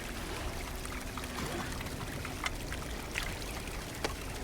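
Fresh water being collected in the video game Cairn, a steady trickling, pouring rush of water with faint clinks, continuous and fairly quiet, without talking.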